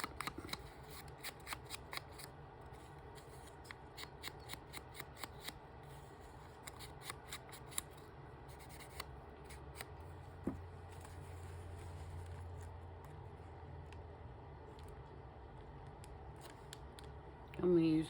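Scissors snip paper corners in a run of quick, sharp cuts, some spaced and some in bursts, close up and fairly quiet, with light paper handling between snips and a brief rustle at the end.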